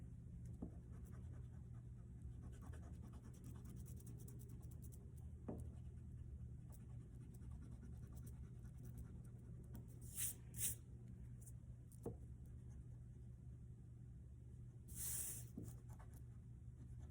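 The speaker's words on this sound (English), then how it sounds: "Now let me erase some lines so that you can see it a little bit better." Pencil lines being rubbed out on paper with a mediocre eraser, a soft continuous scratchy rubbing that runs steadily at close range with a few brief brushing sweeps, no talking.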